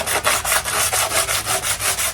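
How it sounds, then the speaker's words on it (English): Hand-sanding a Kawasaki Ninja ZX6R motorcycle body panel with 100 grit sandpaper, working toward bare metal: about ten quick, even back-and-forth scratchy strokes, close and loud. "use some 100 grit sandpaper and get this down to bare metal"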